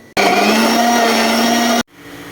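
A blender grinds shallots, garlic, galangal and ginger in one loud, steady whirring burst that starts and stops abruptly, close up and alone.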